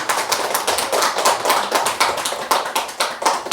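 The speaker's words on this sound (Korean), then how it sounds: "박수 한번 쳐주세요." Audience in a lecture hall at a Buddhist college class breaks into steady, dense clapping, loud and close, with a continuous patter of many hands and no voices over it.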